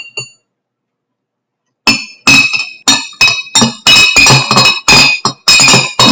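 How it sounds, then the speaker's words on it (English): Repeated bright glass clinks from a spoon stirring colored water in a glass for a flower science experiment, a quick irregular series of close, loud taps after a brief pause, with no talking. "she's going to stir that up."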